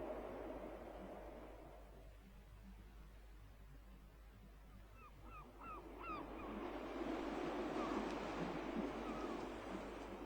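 Ocean waves surging and washing against a rocky shore in a steady, broad roar that swells louder toward the end, with faint gull-like cries briefly over the surf.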